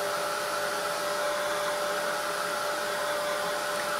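A heat tool blows steadily over an art journal page to heat set it, giving a continuous, even whirring hiss with a faint high whine running through it, close and unbroken, with no voices.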